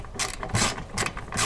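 A hand ratchet works a stubborn bolt on a Mazda MX-5 Miata NA8: close, loud bursts of rapid clicking come in quick repeated strokes with short gaps between them.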